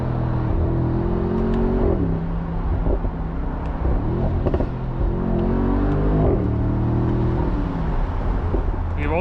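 A 2025 Mercedes-AMG SL 63 with carbon ceramic brakes revs its engine close up, the loud roar rising and falling in repeated surges with sharp blow-off whooshes between them, under faint talk.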